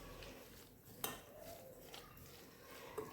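A spoon clinks and scrapes in a bowl as chard dolma filling with red pepper, salt and a little oil is mixed, with quiet stirring and a few sharper taps against the bowl.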